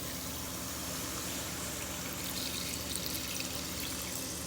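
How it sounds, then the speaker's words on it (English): Water pours steadily into a pot of brown stew goat gravy with a continuous splashing rush, close and fairly even throughout. "So now we're just going to pour some water."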